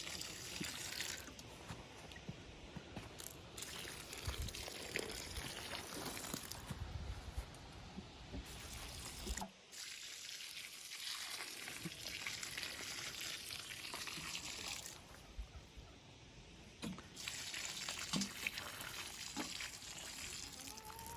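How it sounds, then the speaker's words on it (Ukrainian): Liquid fertilizer solution pours from a bucket onto the soil under a mature berry bush, making a close, continuous splashing gush in several long pours separated by short pauses. "Під ось такий дорослий кущ виливаю 10 літрів розчину."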